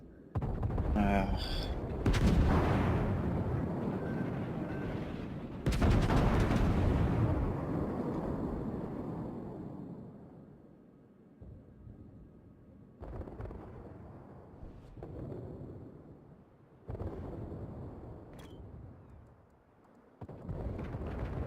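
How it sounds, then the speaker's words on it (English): Battleship main-gun salvos in a naval warfare game, with heavy booming blasts near the start and middle that roll off into long rumbling decay, then quieter, sharper shots further on while players talk over it. "Fuso, that was a glorious salvo."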